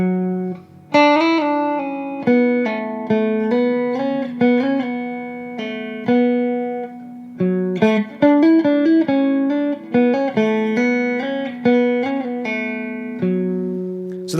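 Guitar plays a melody slowly, one plucked note at a time with some slides, about fourteen seconds of steady, clear phrasing with no talking.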